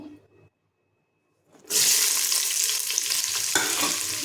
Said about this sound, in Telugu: ఉల్లిపాయలు వేయించుదాము